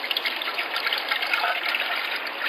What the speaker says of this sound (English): And then we want to pour it into a pot.